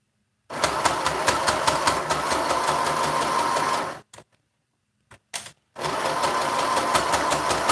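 A sewing machine top stitches the bottom edge of a fabric mask through four layers, running in a steady rapid rattle, pausing with a few short bursts, then resuming.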